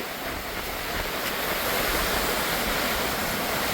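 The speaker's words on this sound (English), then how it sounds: "Look at the surge." Atlantic Ocean surf surges against the rocks at Glass Window Bridge on Eleuthera in the Bahamas, a continuous loud, close rush of crashing water and spray with wind noise.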